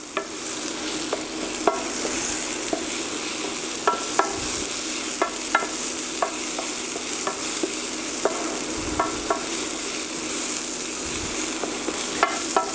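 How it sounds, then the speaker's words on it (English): Vegetables for a vegetarian frittata frying in a non-stick pan, stirred with a wooden spoon: a loud continuous sizzle broken by regular soft knocks and scrapes of the spoon, with no talking. "Let's get just a wooden spoon. Again, because this is non-stick pan, so try not to use metal in these. And we're just going to stir that around."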